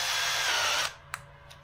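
A power drill boring a guide hole in a 1982 VW Westfalia during a Subaru engine install, using a hand-sharpened bit: a steady high whine for under a second, then stopping, followed by two faint clicks.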